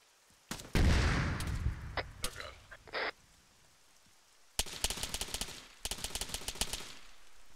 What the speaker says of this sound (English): I hear explosions.